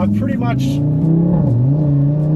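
An Audi RS3 (8Y) with a Milltek exhaust revs up close, its deep exhaust note rising and dipping in pitch over a steady rumble.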